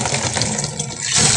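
Water running or being poured in a home kitchen, a continuous loud splashing rush for about a second and a half, close by with no talk.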